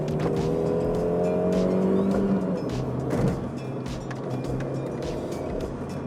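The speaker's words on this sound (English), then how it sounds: "It's a very noisy car in general." A Mini Cooper R50 heard from inside while driving, with a steady engine drone, rising tones as it revs and pulls through the gears, and a constant wash of road and wind noise in the cabin.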